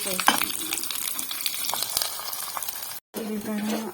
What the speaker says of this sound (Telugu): సన్నగా కట్ చేసుకున్న వెల్లుల్లిపాయ వేసుకొని చిన్న దీంట్లో